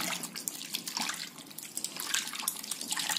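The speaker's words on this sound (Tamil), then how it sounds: "இந்த புளியை சேர்த்து இப்படி நல்லா பிசைஞ்சிருங்க." Tamarind being squeezed and kneaded by hand in water for rasam, giving continuous wet squelching and dripping splashes, close and moderately loud, with no talking.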